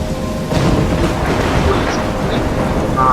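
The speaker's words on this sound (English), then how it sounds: "I'm trapped in a storm?" Stormy weather in the Life Is Strange video game: a steady, dense wash of rain with low thunder rumbling throughout, loud and continuous with no clear breaks.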